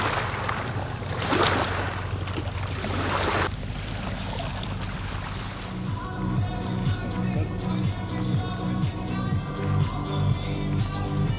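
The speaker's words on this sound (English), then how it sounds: "Currently, we're catching a ferry to South Korea, the next stage of the trip." A ferry bound for South Korea at sea: rushing wind and wave noise buffet the microphone, then settle into a steady engine hum with splashing water, continuous throughout.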